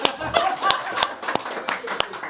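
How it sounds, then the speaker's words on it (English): A class audience at a Gaura Purnima gathering gives a short burst of scattered, uneven hand claps nearby, mixed with voices talking over the applause. "Give yourself a round of applause."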